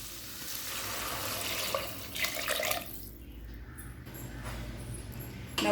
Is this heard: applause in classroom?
no